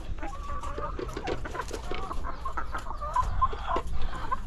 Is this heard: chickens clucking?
yes